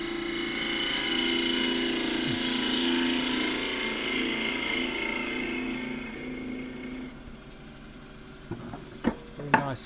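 A wood lathe cutting a box elder burl bowl lid gives a steady, close, rough tonal whine of tool on spinning wood that drops off near the end, followed by a few short knocks.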